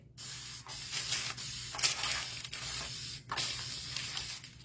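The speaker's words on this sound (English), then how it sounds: "So this is just a Mod Podge adhesive spray." Several hissing bursts from a Mod Podge aerosol adhesive spray can, each lasting about a second with short pauses between, close and steady.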